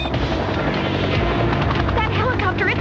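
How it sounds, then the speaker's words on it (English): A helicopter in an animated spy-action cartoon keeps up a steady, loud rotor drone throughout, with voices talking over it and brief bursts of other action sound. "That helicopter isn't giving up."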